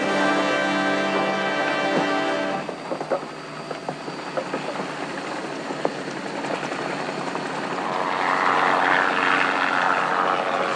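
Helicopter flying during a bighorn ram capture, a steady rotor and engine drone filling the whole stretch, swelling louder toward the end with no voices.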